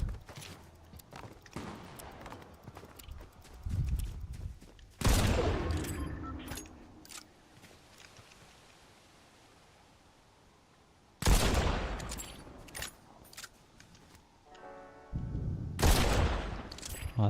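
Gunfire in the Fortnite video game comes in several loud bursts separated by quieter stretches of footsteps and small game sounds, with a rapid rattling volley near the end.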